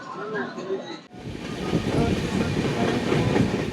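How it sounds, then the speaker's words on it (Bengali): Saraighat Express pulling away from Cooch Behar at dusk, a brief quieter stretch with a voice giving way to a loud continuous rumble and clatter of the moving train. "5টা 40-এর সময় আমাদের কোচবিহার থেকে ট্রেন ছেড়ে দিল"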